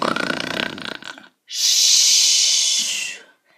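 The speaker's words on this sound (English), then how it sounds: "The sleeping dragon princess began to snore." An animated dragon princess snores: one long, loud, breathy hissing snore that fills about 1.5 seconds, heard alone after a short stretch of mixed background sound.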